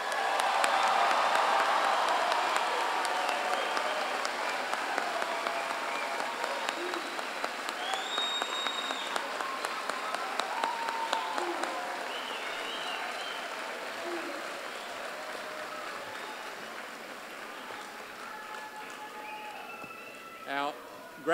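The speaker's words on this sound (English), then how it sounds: "please join with me as we honor all graduates with a well-deserved round of applause" Graduation commencement audience applauding graduates, a broad wash of clapping from a large crowd that stays steady and gradually eases over about twenty seconds, with scattered voices and a brief bump near the end.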